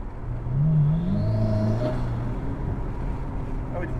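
A 1000-horsepower hybrid Ferrari pulls hard on an open road, its engine note climbing in a rising revving whir with turbo spooling, then settling into a steady loud drone heard from inside the car.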